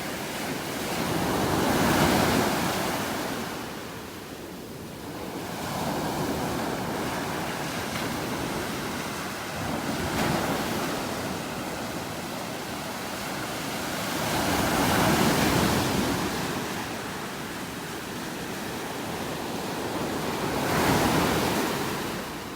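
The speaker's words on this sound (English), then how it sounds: "Listen to those waves." Ocean waves roll onto a beach in North Naples, Florida in slow, swelling surges, each crash building and fading into a continuous roar, with some wind noise.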